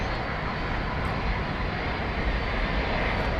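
A Sun Country airliner at DFW Airport roars steadily and loudly with broadband engine noise, a continuous jet rumble with no voices present.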